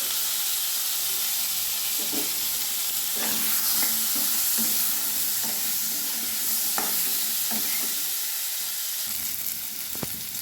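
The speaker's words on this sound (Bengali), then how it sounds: "এবার কড়াইয়ে আর একটু তেল দিয়ে আলুগুলো আমি ভেজে নিচ্ছি" Potatoes with turmeric and salt fry in oil in a wok, giving a steady, close sizzle broken by scattered scrapes and clicks from stirring, with no talk.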